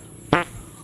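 A single short, buzzy fart lasts about a tenth of a second, close and fairly loud against a quiet room.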